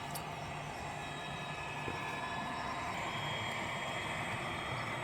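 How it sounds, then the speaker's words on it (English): A model DMU train runs along a layout with a steady, even rolling hum and faint rattle that holds constant throughout. A few light ticks sit above it, with no speech. "So the DMU just comes into here"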